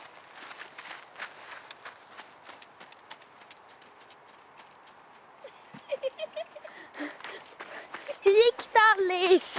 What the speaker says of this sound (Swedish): Det här är Alice och hennes häst Kurt.